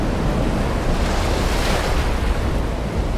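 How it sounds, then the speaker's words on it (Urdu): Ocean waves roar in a dense, continuous wash of surf, loud and close, with wind buffeting the microphone and no speech. "سمندر کی انتقامی لہریں"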